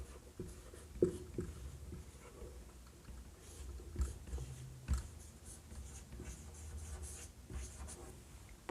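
Pen or pencil writing notes during a botany lesson on flowering plants, faint scratchy strokes and small taps repeating irregularly at low volume in a quiet room.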